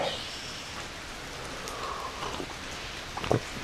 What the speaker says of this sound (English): It is definitely raining.